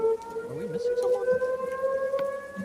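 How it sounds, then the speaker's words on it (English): A steady wailing air raid siren drones in the background of an online tabletop game session, holding a sustained tone under light chatter and game noise. "Who has an air siren in the background?"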